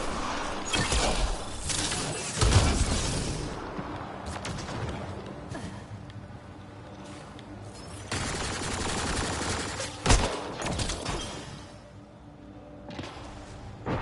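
Weapon fire from the video game Mass Effect Andromeda, with repeated loud bursts of gunfire and heavy impacts that continue through most of the stretch, in dense, busy game combat.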